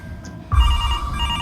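Telephone ringing in the horror video game Mr. Hopp's Playhouse, a loud electronic ring that cuts in suddenly after a quiet start and keeps trilling close by.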